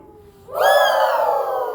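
Several people at a rehearsal let out a sudden loud, sustained screech in imitation of an owl, a harsh, wavering chorus that starts abruptly after a quiet moment and holds strong to the end.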